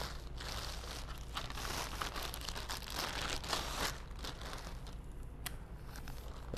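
Crinkly plastic packaging is pulled away from a Hunter Douglas Silhouette PowerView 3 shade, giving steady close rustling and crackling with sharp tearing bursts throughout, quiet overall and without speech.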